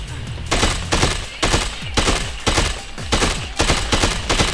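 Rapid bursts of gunfire in Dead Rising 2, loud and close, fired in repeated volleys of several shots each with brief gaps between them.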